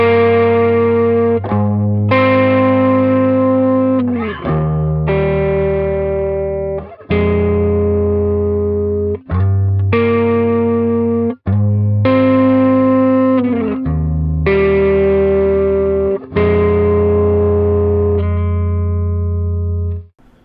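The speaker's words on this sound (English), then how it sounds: "Our clean amp, which again is based on like the Lone Star." An electric guitar played through a clean amp model based on a Lone Star plays ringing chords, each strummed and left to sustain and decay, loud and close with bright harmonics.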